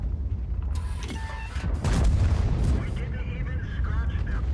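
Tank cannon fire and explosions in the World of Tanks video game, with deep booms and heavy low rumble over a steady stream of in-game battle noise. A voice talks over it in places.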